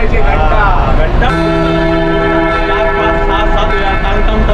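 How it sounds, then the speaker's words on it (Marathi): A resonant bell sound effect strikes once after a brief moment of voices, then rings with a long, steady, sustained hum that slowly decays, loud and close. "घंटा वाजली पाहिजे"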